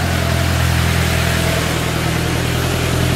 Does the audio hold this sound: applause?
no